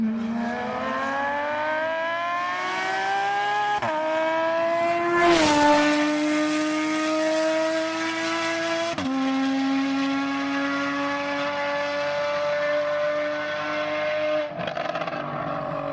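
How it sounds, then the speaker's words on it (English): A Porsche Cayman S 981 with an aftermarket exhaust, its engine wailing loud and close through rising revs, with several sharp gear-change breaks and a brief crackle near the middle. "a video of one of these cars, a Cayman S, with an exhaust on it, and I'm going to play you the clip"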